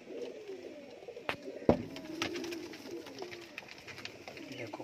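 Pigeons coo softly in low rolling calls, a few birds nearby, with sharp clicks and knocks from cage or wing movement scattered through the quiet.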